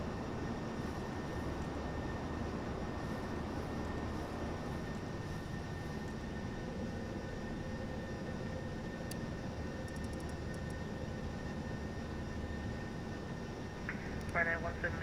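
An airliner takes off from Cork in a flight simulator game, with a steady, dense engine roar that holds level throughout while a man calls out the takeoff.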